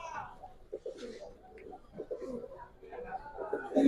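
Giribaz pigeons in Old Dhaka coo softly in short, repeated throaty calls nearby, with human voices heard intermittently in between.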